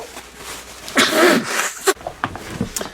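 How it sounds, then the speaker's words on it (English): A single close allergy sneeze bursts out mid-clip, followed by a few soft sniffs and small movements. "Excuse me, I got to sneeze."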